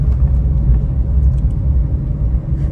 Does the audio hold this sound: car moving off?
yes